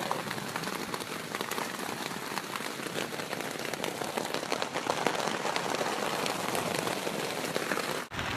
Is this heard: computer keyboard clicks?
no